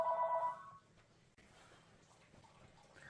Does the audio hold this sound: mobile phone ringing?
yes